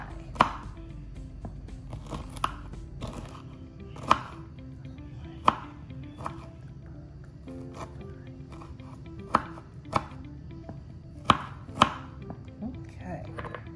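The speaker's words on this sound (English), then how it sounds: "we're going to cut up a little bit of broccoli" A knife chops broccoli on a cutting board in a kitchen, with a dozen or so sharp, irregular knocks standing out over a steady low background hum.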